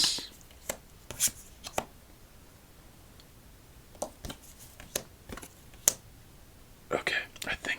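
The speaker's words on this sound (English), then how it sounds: "let's stack up our cards as much as they will allow us" Playing cards in a solitaire game are stacked and tapped down in close, soft, irregular clicks and slaps with quiet gaps between them.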